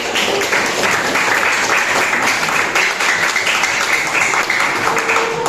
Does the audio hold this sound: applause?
yes